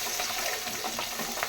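Garlic frying in a hot pan for a kara kuzhambu, a steady close crackling sizzle with small pops and stirring noises throughout.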